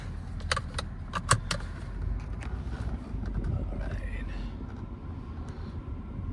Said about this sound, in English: let me put my seatbelt on